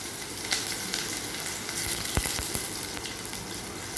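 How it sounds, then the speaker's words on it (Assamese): Sliced onions sizzle and crackle steadily in hot oil in a kadai, close up, with a few sharp pops and scrapes of stirring. "কেৰাহীটোত তেল গৰমাইছোঁ। এতিয়া পিঁয়াজখিনি দি দিছোঁ।"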